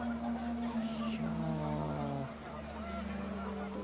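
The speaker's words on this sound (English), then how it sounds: "The wind picked up, and panicked geese appeared and quickly went." Panicked geese honk in a rapid overlapping flurry in What Remains of Edith Finch, nasal calls rising over wind and ambient game music, then fading quickly.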